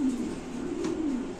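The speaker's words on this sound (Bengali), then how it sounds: "আমরা আরেক জোড়া কবুতর একদম বাদশা কোয়ালিটি" Badsha quality pigeons coo close by, a steady low rolling coo with a slight wavering pitch that continues throughout the short moment, no talk over it.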